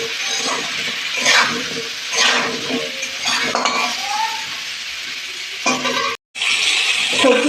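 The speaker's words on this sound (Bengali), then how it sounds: "সবজিটাকে ভালো করে ভেজে নেব।" Chopped vegetables with turmeric sizzling in a hot pan while a spatula stirs and scrapes against the metal, close and loud, with steady frying hiss and periodic clanking strokes.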